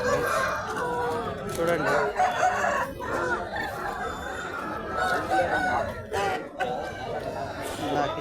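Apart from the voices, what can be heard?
roosters crowing at a chicken market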